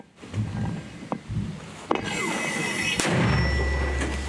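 A few sharp thumps from a mortar firing rounds in combat near Avdiivka, followed by a loud boom that leaves a sustained roaring rumble, with no talking.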